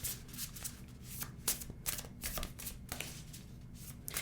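Tarot cards are shuffled by hand close up, with quiet, repeated riffling and slapping bursts in an uneven rhythm against a faint background.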